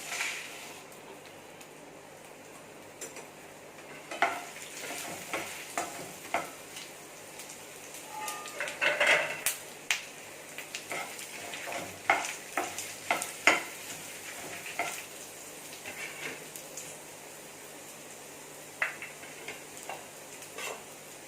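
Red chillies and coriander seeds dry roasting in a pan for a fish kuzhambu, with scattered scraping and clicking stirring sounds and light crackle over a soft steady background, no talking.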